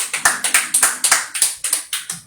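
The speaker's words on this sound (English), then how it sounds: "All right. Let's clap for her, please." Close, loud clapping by a small group at a lively entertainment show, sharp regular beats in a quick steady rhythm with no talking over it.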